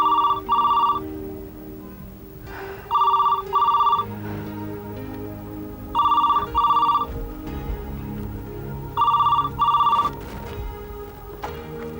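A telephone rings in four separate double bursts of bright electronic trilling, evenly spaced across a quiet indoor room with a soft background hum and no talking.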